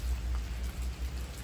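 Rain falls at night near the coast at Malpe during a fishing trip, a steady close patter of drops over a low rumbling wash, with no voices.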